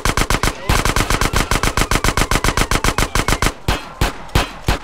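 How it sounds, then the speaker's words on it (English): Rapid automatic gunfire from police in Grand Theft Auto: San Andreas rattles in fast, evenly spaced bursts, loud and close, then breaks into a few slower, heavier single shots near the end. "You guys are shooting at me."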